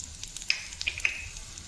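Coriander seeds, dried red chillies and cumin sizzle softly in a pan as they fry, with a faint steady crackle and a few sharp pops and stirring scrapes close by.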